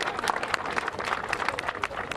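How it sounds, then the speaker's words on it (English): An audience claps for a young volunteer at a playground build, a dense patter of many hands, steady and moderately close, with crowd murmur mixed in. "can we have a big round of applause for Aiden"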